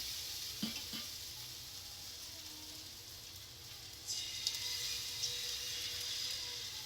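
Momos fry in ghee in a pan, giving a soft, steady sizzling hiss with a few light clinks near the start and a brighter burst of crackling partway through.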